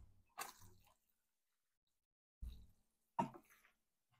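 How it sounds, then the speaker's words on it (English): Water dumped from a bonsai pot during repotting, a few short wet splashes and drips at close range, separated by silence. "I do a little dump of the water that's in here and give it a little bit more"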